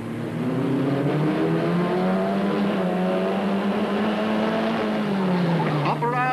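Onboard a Crossle Formula Ford race car in a 1989 Irish FF1600 race at Dundalk, the engine drones loudly and steadily with pitch rising and falling through gear changes, under a commentator's voice.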